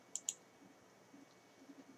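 Two quick, sharp computer mouse clicks near the start, then a third at the end, crisp and close against a very quiet room.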